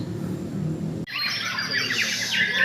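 A magpie robin in breeding condition calls from a hanging cage post: after a brief low murmur, a loud, sharp run of bright chirps and squawky whistles bursts out close by and continues steadily.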